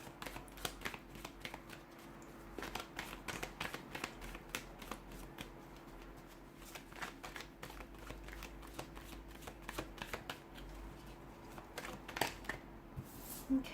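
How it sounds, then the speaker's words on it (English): Tarot cards are shuffled close up in a steady run of crisp riffles and papery snaps, with no talking throughout. "let's go ahead and give the cards a shuffle"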